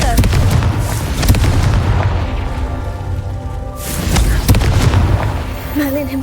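Spell explosions burst in the video game Hogwarts Legacy as deep booms, two big blasts a few seconds apart with smaller impacts around them, mixed with combat noise and a voice.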